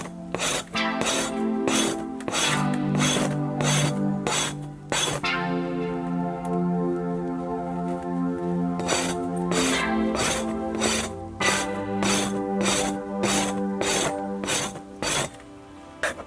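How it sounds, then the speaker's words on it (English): A tool scrapes leftover long hair and grain from a moose hide. Rhythmic rasping strokes come in steady runs, pause for several seconds, then resume, all over a sustained musical tone. "scraping off the longer hair that was still on"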